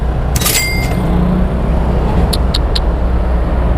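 Road traffic with cars gives a steady, loud rumble on a service road, with a brief high whine early on and a few light clicks later.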